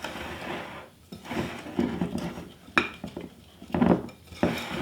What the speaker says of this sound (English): I'm going to whisk that together